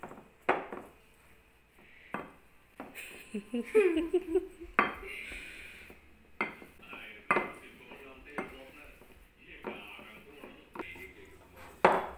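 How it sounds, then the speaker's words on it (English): Around 250 grams of boiled potatoes being mashed in a bowl, heard as repeated knocks and clinks of a utensil against the dish in an uneven rhythm, close by, with a voice and giggles in between. "so I'm going to use this for mashing potatoes"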